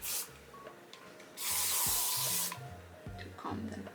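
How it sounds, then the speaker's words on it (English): A single steady burst of hairspray from an aerosol can onto freshly curled hair, a loud close hiss lasting about a second, with a few small shorter sprays and light handling sounds around it. "And I'm gonna apply a bit of hairspray"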